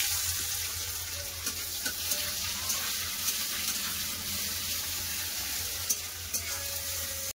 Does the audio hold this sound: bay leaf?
yes